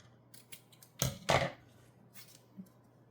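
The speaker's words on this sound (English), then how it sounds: "And then we are going to cut just a little bit off." Scissors snipping cardstock for card making, two close crisp cuts in quick succession, with a few faint clicks and rustles around them in a quiet room.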